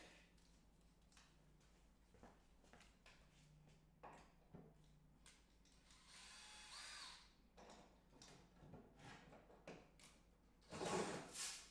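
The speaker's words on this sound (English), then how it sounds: "Grab my drill." Faint whirring bursts of a power drill, starting and stopping several times amid soft clatter and handling noises, getting louder near the end.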